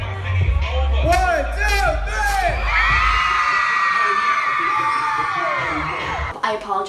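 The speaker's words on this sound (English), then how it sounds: "on the count of 3, I want you to scream as loud as you can" A crowd of young fans at a Johnny Orlando meet-and-greet screams and cheers loudly together, sustained shrieks and yells that swell and then fade over several seconds.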